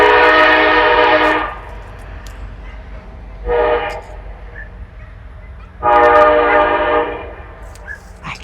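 A train passes near Steele Cemetery, sounding its horn loud and close in three blasts: a long one, a short one, then another long one, with a low rumble underneath.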